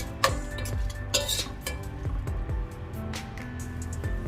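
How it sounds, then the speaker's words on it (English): Spoon stirring vegetable fried rice in a pan after soya sauce and lemon juice go in, with repeated scraping and clinking strokes against cookware over a steady background hum, close and moderately loud. "Give a nice mix."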